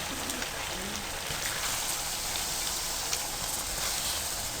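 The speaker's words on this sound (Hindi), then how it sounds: "अब हमने इसमें पानी डालना है।" Water pours into a pan of browned chicken and chickpeas for Lahori murg chole, a steady broad hiss and splash running evenly throughout, close and fairly loud.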